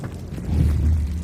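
Short, low rumbling whoosh of an Incendio fire spell cast in Hogwarts Legacy, a brief swelling burst with no speech.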